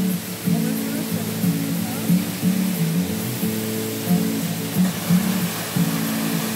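The Cafundó waterfall in Ubajara National Park, Ceará, Brazil, gives a constant broad rush of falling water beneath someone talking throughout.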